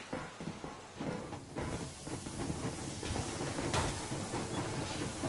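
A steam locomotive train runs in the video game Metro Exodus, giving a steady, fairly loud rushing hiss and rumble of rail travel that swells slightly midway and continues throughout.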